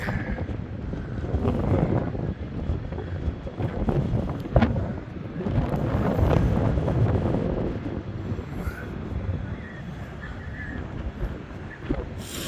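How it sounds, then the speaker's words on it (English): Strong wind on the Blackpool seafront promenade buffets the microphone in a continuous, roaring rumble with gusty surges, loud and close, with no talking. "this is how windy it can be"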